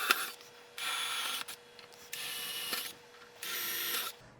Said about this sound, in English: make sure you drill through the picture frame because with a larger drill bit